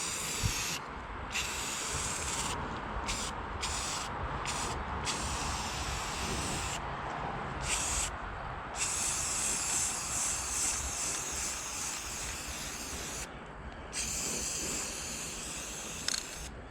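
A continuous aerosol spray hisses almost nonstop, broken by a few short pauses, with faint clicks and rustling between bursts, as a spray can paints a car part black.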